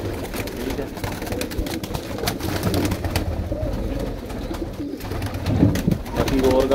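Pigeons coo in a loft in Faisalabad, low rolling calls repeating close by amid rustling and background noise.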